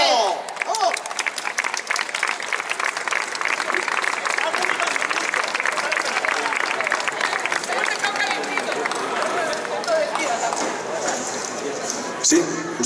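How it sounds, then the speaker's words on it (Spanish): Loud, sustained applause from a large conference audience, steady clapping filling the space for several seconds before tapering slightly near the end. "Un aplauso para él."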